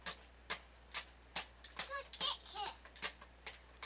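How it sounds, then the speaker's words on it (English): Computer mouse clicks repeat in short, sharp bursts while someone navigates a photo page, with a voice speaking briefly midway between the clicks. "I'm clicking around here."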